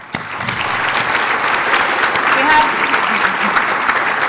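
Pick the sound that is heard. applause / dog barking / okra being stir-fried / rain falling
applause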